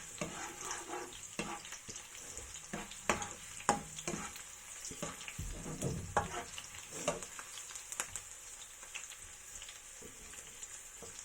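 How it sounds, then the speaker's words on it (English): Garlic frying in hot oil in a pan for chicken and pork adobo, a steady close sizzle with scraping stir strokes and clatters throughout, no voices. "Just mix it around a bit so that all the vinegar or all the garlic juice will end up in the oil."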